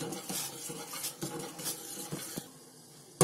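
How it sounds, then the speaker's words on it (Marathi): Milk being stirred in a pan while cooking down into homemade condensed milk, heard as soft, close scraping and clinking strokes in an uneven rhythm over a quiet simmer, with a sharper knock at the end. "हे आपण ढवळत करायचं, खाली लागायला नाही पाहिजे म्हणून."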